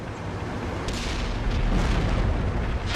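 Tank cannon fire in a tank battle game, a heavy booming blast with rumbling low roar sustained over a few seconds, loud and close.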